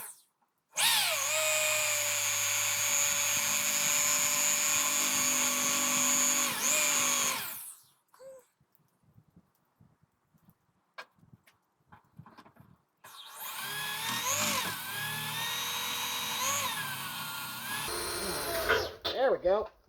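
A power drill runs steadily for several seconds, stops, then whirs again in a second long burst while a voice talks over the work in a garage project build.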